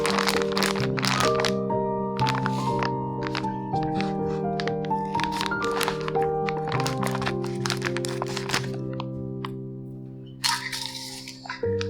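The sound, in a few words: adding a kilo of whole spelt flour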